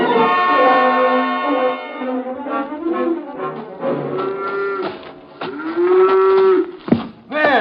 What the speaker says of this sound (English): Let go of that cow for a minute, Luther.